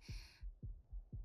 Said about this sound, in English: You can hear the heartbeat as well